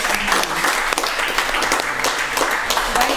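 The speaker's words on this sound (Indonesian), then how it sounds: "Kita beri tepuk tangan sekali lagi dong." Audience applause for the deputy mayor of Ambon during a talk show, a dense steady burst of clapping from a crowd lasting a few seconds.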